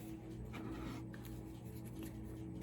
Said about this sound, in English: then we'll just shuffle the other cards and see what's up